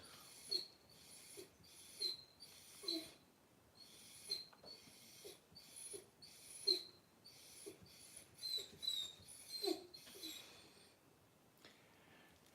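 A puppy whines and pants faintly in a steady, repeating rhythm of short high cries with breathy pauses, heard during a live auction with no one talking over it.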